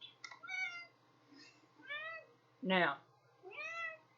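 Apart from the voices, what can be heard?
cat meowing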